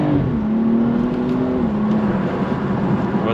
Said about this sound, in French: avec ce son qui est juste magnifique. Vraiment ce 6 cylindres qui se perd chez BMW malheureusement